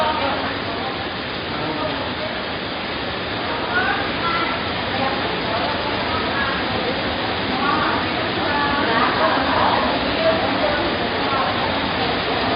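Heavy rain pours steadily onto a leaking roof, a dense, constant hiss that fills the whole clip loud and close, with no gaps.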